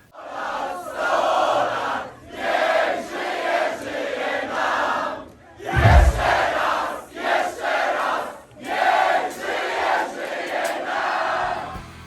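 Large concert crowd in Poznan singing Happy Birthday together in unison, a loud, sustained chorus in phrase-length swells with brief dips between lines and a burst of cheering near the middle.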